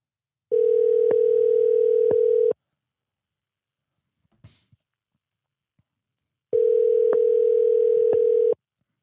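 A telephone rings out while a call is placed back to someone: two long, steady electronic ring tones about two seconds each, separated by several seconds of near silence with a faint click between.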